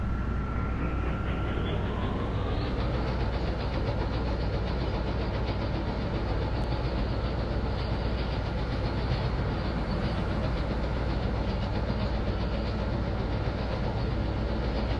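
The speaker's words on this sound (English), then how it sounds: "This is a red line train to Howard." Simulated CTA Red Line train running in the Roblox game, a steady loud rolling rumble with faint clickety-clack and an engine-like drone throughout, with no talk.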